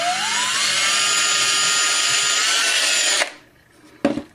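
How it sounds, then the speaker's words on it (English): A power drill fitted with a 7/32 inch bit enlarges a hole for a homemade smartphone tripod holder. It gives a close, loud, steady whine that rises as it spins up, runs about three seconds, cuts off, then a short knock follows. "Now this hole I want to expand even further so that I have a little play going up and down"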